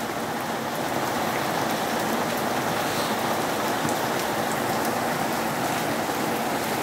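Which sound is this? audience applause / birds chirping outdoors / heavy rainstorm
heavy rainstorm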